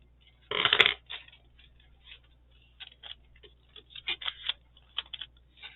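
Scissors snip through paper for a journal page, a loud rustling cut at the start followed by a series of quieter, irregular clicks and rustles as the paper is handled up close.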